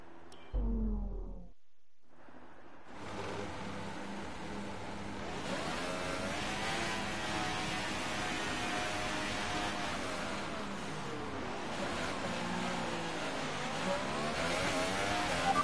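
Formula 1 race car engine in the F1 2018 video game, revving high at a race start, then a sustained loud, rising and falling engine drone with gear-shift sweeps, heard alone without talk.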